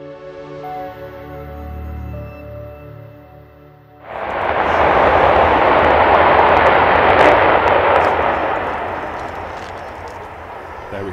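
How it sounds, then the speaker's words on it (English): An Avro Vulcan XH558 bomber starts its four Rolls-Royce Olympus jet engines at Doncaster Sheffield Airport, the former RAF Finningley. A layered rising turbine whine comes first, then a sudden loud, rushing roar that holds steady and powerful. "XH558 firing up her four Olympus engines."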